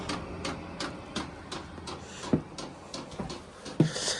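Chinese diesel heater fuel pump ticking as it primes in a small shop, a quiet, evenly spaced series of about a dozen sharp clicks roughly every third of a second, with a couple of louder knocks mixed in.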